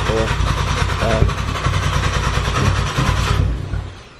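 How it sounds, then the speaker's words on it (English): A car engine fitted with a stratified two-port auxiliary fuel setup is cranked and fails to start, giving a loud, continuous mechanical churning for about four seconds before it cuts off. "You guys heard, car doesn't start."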